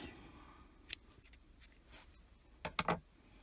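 Scissors snipping white crochet yarn, several quick, crisp snips up close in a quiet room, with a tight cluster of louder cuts near the end.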